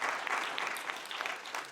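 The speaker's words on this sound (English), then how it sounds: "And you can applaud that too." An audience claps steadily and fairly loudly, a dense wash of many hands that carries on without pause.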